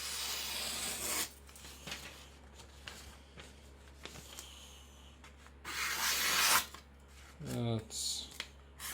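Blade edge of a custom chopper knife being sharpened, with repeated rasping strokes and rubbing at close range, separated by short pauses and a few louder scraping bursts near the end.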